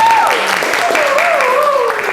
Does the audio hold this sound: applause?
yes